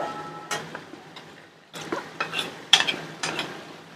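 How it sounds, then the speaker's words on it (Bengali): Chili mushroom is stirred in a pan after salt goes in, with irregular spoon scrapes and light clinks against the pan over a quiet sizzle, the stirring growing busier in the second half. "এটা একটু নুনটা দিয়ে একটু নাড়াচাড়া করে নিলাম"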